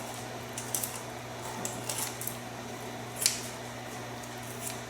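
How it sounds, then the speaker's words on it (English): Kitchen shears snip through raw chicken beside the backbone to butterfly the bird, giving a few soft, crunchy cuts and squishy clicks spaced over a low steady room hum, with no talking. "I want to cut right next to the backbone because I want to lay it flat, which is a butterfly"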